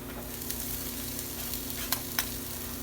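Peppers fry in avocado oil in a pan with a soft, steady sizzle, broken by a few faint stirring clinks and scrapes near the end, with no one talking.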